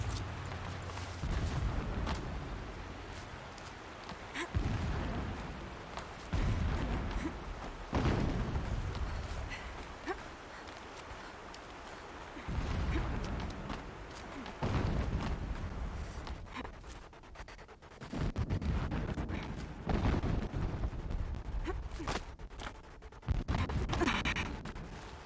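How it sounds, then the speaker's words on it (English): Muffled, rumbling booms roll in again and again at a distance in the video game Horizon Zero Dawn, each swelling and fading every few seconds. "Explosions in the distance."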